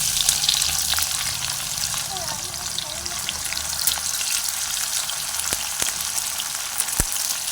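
Chopped onion fries in hot oil in a pan for a chicken curry, giving a dense, steady sizzle with a few sharp pops and crackles throughout.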